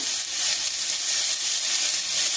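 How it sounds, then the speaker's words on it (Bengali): A steady, even sizzle of food frying in a spoonful of oil, a bright hiss holding constant throughout with no talking. "হালকা একটু 1 চামচ তেলের মধ্যে একটু ভেজে নিলাম"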